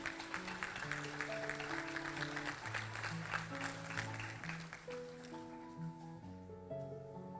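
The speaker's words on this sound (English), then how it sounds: "A round of applause for our grade 7s." Assembly audience applauding grade 7 award students, steady mass clapping throughout with a sustained piano or organ melody playing over it, tapering toward the end.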